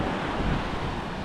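Ocean waves washing onto a beach at high tide, a steady broad roar of surf with wind buffeting the microphone, continuous and close with no voices.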